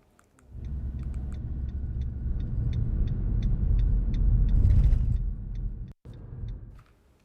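Slow highway traffic in dense fog in Nalgonda, a continuous low rumble of passing cars and heavy vehicles with a swelling pass near the middle, faint regular clicks above, and a brief cut before the rumble resumes.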